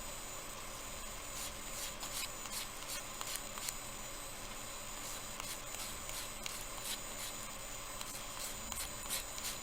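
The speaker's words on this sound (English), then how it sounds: "all you're wanting to sand is the polymer clay" Polymer clay earrings are sanded by hand, producing a steady, close rubbing rasp with quick repeated strokes and no voices.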